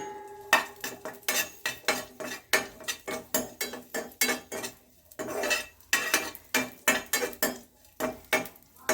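Dried raisins fried in ghee in a pan, with a steady run of sharp metallic ladle scrapes and clinks against the pan, rhythmic and close, over a faint sizzle.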